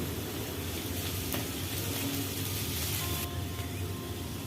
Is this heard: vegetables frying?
yes